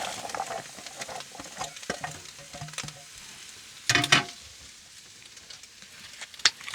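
Onion goes into a pan of sizzling meat on a cold-weather remote campsite, a steady close fry with stirring scrapes and a sharp hissing burst midway.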